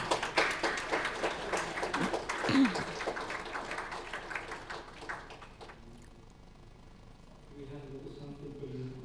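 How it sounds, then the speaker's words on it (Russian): Audience applause at the closing of a network operators' conference, a few seconds of scattered clapping that thins out and fades, with a voice speaking faintly near the end. "вы заслужили аплодисменты"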